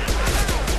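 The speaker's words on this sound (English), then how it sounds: "Let's switch to the heavy pistol." Rapid heavy pistol shots from the Mass Effect 2 video game, several loud close reports in quick succession within a dense, noisy combat mix.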